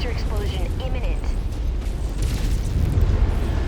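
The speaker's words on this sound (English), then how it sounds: "Reactor explosion imminent." A mech's reactor blows up in MechWarrior 5 Mercenaries, a loud, sustained rumbling explosion with crackling debris that swells toward the end, mixed with game radio voices.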